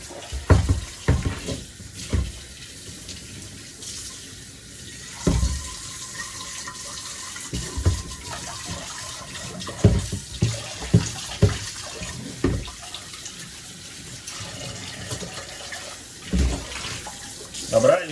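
Water runs steadily from a tap while pots clank and scrape in a sink, with occasional louder knocks and some talking.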